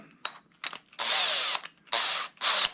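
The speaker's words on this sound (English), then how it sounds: "put our bigger drill bit in" A power drill with a larger bit bores into a plastic kayak hull, coming in three long whining bursts separated by short pauses, with brief clicks and handling noise between them, close and fairly loud.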